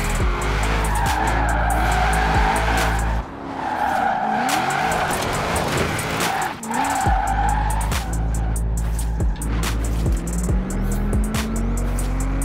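A Nissan 350Z drifts in Forza Horizon 4, tires skidding and squealing in long sweeping slides over a loud continuous engine drone, with gear changes and rising revs toward the end.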